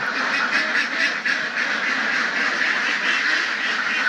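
Many ducks on a duck egg farm quack loudly and continuously close by, a dense overlapping chorus with no pauses.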